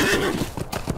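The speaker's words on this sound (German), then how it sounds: "wir schwingen uns aufs Pferd und reiten selber" A horse whinnies loudly at the start and hooves clip-clop as it is mounted and ridden in the Lord of the Rings Online game, the neigh fading into steady close hoofbeats over a continuous background.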